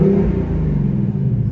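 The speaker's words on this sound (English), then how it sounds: "See, that's me revving it" A stock 2019 Ford Mustang GT V8 engine rumbles deeply close by, holding a steady, throaty growl as it revs for a moment.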